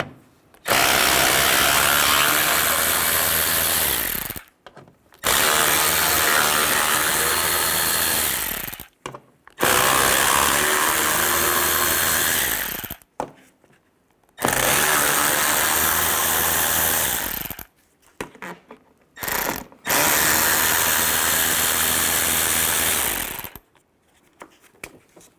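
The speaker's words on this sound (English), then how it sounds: "Now we're going to take all these bolts out on top of the fender." A power tool with a T30 socket spins fender bolts out of a 1998–2010 Volkswagen Beetle, in five loud, close bursts of several seconds each, separated by short silent gaps.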